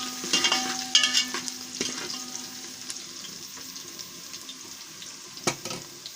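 Garlic frying in a pot for a potato and spinach curry, after whole red chillies went in: soft, steady sizzling with occasional stirring scrapes and clinks, heard alone without talk.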